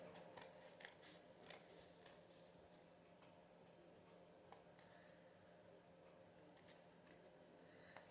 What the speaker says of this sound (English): I don't even know if I can cut that off, but I'm going to try.